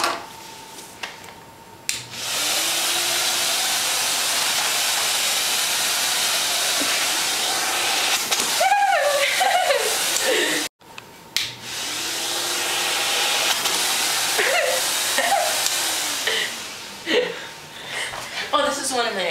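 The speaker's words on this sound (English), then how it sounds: "Now here it is an example of vacuuming with this, the Carpet Master." A Carpet Master vacuum cleaner runs with a loud steady whine, pausing briefly midway before starting up again, while someone talks over it near the end of each stretch.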